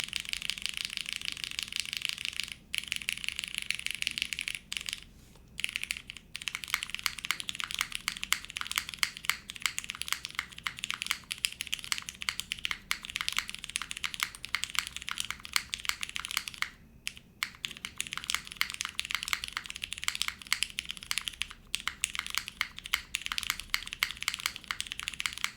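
Continuous typing on a mechanical keyboard, the Encore by Mod Musings, fitted with vintage Cherry Black switches modded with different springs, lubed with 205 and fitted with Deskey films. Steady, moderately quiet key clacks with short pauses and no voices.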